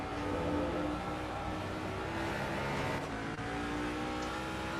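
Race cars in a one-make series event at Indianapolis, two cars running half a second apart through a turn in a racing game; a steady, dense engine drone holds throughout with no breaks, loud and continuous.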